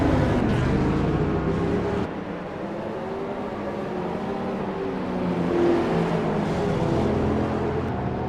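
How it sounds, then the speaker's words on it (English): Race cars in a sim racing game run at Laguna Seca, their engines layered in a continuous loud drone. Harmonics shift as the cars accelerate and lift, with a brief dip partway through and no speech. "Three cars going at it, JT Tommy, Gilles Lalonde at Michael Locke."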